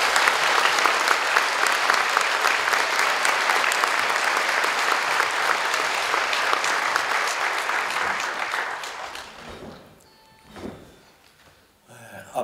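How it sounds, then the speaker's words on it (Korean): Loud, sustained applause from a large audience at a Christian leaders' forum, steady dense clapping for about nine seconds before fading into a few scattered claps and quiet room noise. "큰 박수로 맞아주시기 바랍니다."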